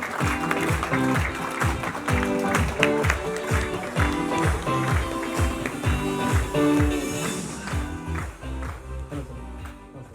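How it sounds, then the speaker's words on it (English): Audience applause at an MTV launch event, sustained clapping with rhythmic thumps and cheers throughout, loud and close, fading slightly at the end. "Huge round of applause,"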